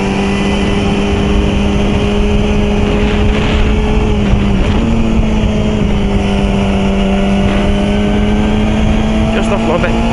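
A motorcycle rides along rural back roads with a steady, loud engine drone and a constant pitch that shifts slightly midway, with heavy wind rush throughout.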